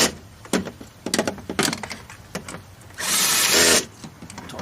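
A power driver runs a 10 mm bolt into the door of a 2013 Mazda6, giving short whirring bursts and clicks followed by one longer, louder spin, close up with no talking.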